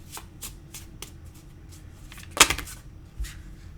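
Tarot cards are shuffled close by in a series of soft riffling flicks, ending in one louder snap and a couple of lighter taps, with no talk.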